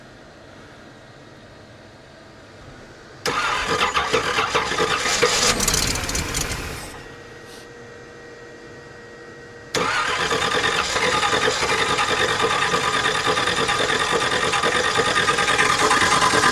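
A 1969 GMC truck engine cranking and catching after sitting for 30 years, loud and close, dropping to a rough idle before revving up again, with a clunking under the steady running.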